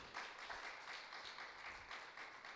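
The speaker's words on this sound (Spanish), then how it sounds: "Le damos un aplauso al Señor por nuestra hermana, su familia." Church congregation applause, a soft, steady wash of clapping from a gathered crowd, fairly distant and even in level.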